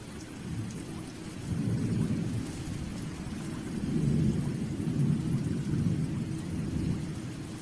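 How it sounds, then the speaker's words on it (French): Steady rain falling with low, rolling thunder rumbling throughout, swelling louder in places; a wet outdoor storm in the African wild, with no voices. "Au matin, il pleut toujours."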